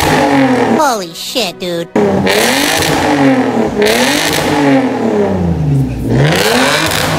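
A Lexus GS300 with a 2JZ engine and a Megan Racing exhaust revs hard and close, climbing and falling in repeated loud sweeps through the full clip. A brief spoken word cuts in early.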